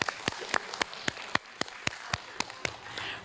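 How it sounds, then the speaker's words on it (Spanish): Sparse, scattered clapping from a small audience at a cultural conference, distinct individual claps ringing out at a fairly even pace against a quiet room. "Aplauso para Artemisa."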